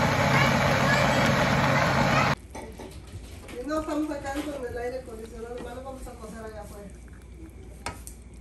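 A kitchen blender whirs loudly, blending tamale ingredients with water, for about two seconds, then cuts off abruptly. Talking and faint kitchen clatter follow.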